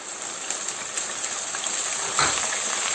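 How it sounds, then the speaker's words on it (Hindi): Ground onion paste goes into hot oil with crackling cumin seeds, giving a steady broad sizzle with a brief louder burst near the end. "अब इस ज़ीरे को हम थोड़ा सा कड़कड़ाएंगे ऑयल में। और अब इसमें मैं शामिल कर रही हूँ एक बड़े साइज की प्याज"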